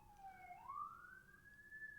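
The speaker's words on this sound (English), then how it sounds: "There's a little siren outside my window." A faint police-style siren wails outside a window, its tone sliding down and then rising into a long steady note, distant and muffled, with no one speaking.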